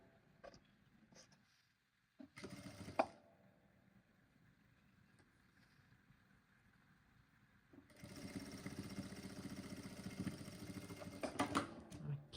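A sewing machine topstitches along the sides of a fabric baguette bag, with a short burst of stitching early on and then a longer, louder steady run of rapid needle chatter toward the end, nearby and without talk.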